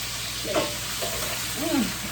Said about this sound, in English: I put in my onions and let it saute